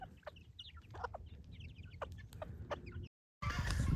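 Landrace-breed chickens cluck and chatter close by in a steady, busy flock, with overlapping short calls, a brief cut to silence, then more clucking.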